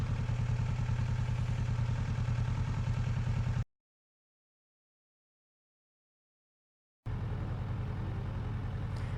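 Kawasaki Versys 650 motorcycle idling at a traffic light, a close, steady low pulsing engine note that cuts out to silence midway and then resumes unchanged.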